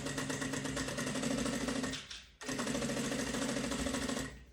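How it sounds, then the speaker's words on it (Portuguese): A sewing machine stitches while a bag is assembled, running in a steady rapid whir for about two seconds, stopping briefly, then restarting and running on before winding down; close and clear with no talk. "Costurar embaixo."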